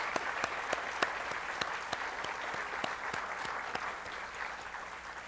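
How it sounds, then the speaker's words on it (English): An audience at a history lecture applauds, a steady wash of clapping with a few sharper individual claps standing out, holding fairly even throughout. "Let's give them a round of applause"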